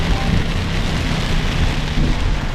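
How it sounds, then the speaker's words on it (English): Heavy rain pours steadily during a hard storm, a loud, dense, continuous hiss of drops drumming on surfaces close by. "this is the first bit of rain that we have seen, and it has been storming so hard"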